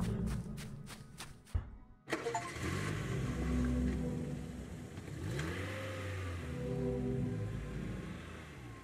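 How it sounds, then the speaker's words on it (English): A car in the game Welcome to Kowloon cranks over in a few sharp bursts, catches with a thump, then its engine revs and hums steadily as it drives off, rising and falling in pitch. "Just straight in the car, ignite the engine, and gone."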